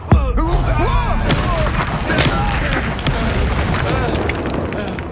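Confringo fire spell blasts from a Hogwarts Legacy battle, a steady barrage of loud booming explosions and thuds over dense game combat noise, with spoken voices and creature cries mixed through.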